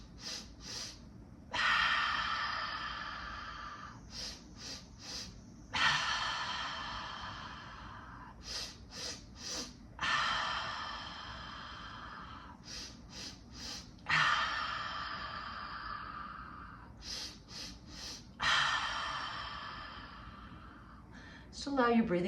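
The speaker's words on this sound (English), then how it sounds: "we're going to use an inhale through our nose, the nostrils, and exhale through an open mouth" A guided breathing exercise of four or five rounds, each made of three short, sharp sniffs in through the nose and then one long, loud exhale through an open mouth, close up with steady pauses between.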